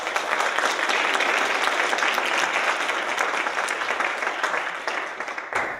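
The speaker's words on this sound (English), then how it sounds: "So let's have a round of applause for them." A large audience applauds steadily for volunteers at an investor panel event, a dense, even roar of many hands clapping that holds strong for several seconds before tapering slightly at the end.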